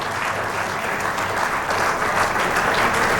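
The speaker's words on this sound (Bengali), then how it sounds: "একটু করতালি দিন।" Steady, full applause from a conference audience in Cox's Bazar as a speaker is called to the stage, sustained without a break throughout.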